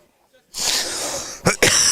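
A sharp, loud sneeze bursts out close by, followed by a quick second blast, over steady background noise.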